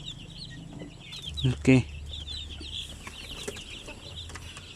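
Chickens cluck and peep in a poultry house with chicks, a busy chorus of small calls throughout, one louder nearby cluck in the middle, and someone says a brief word.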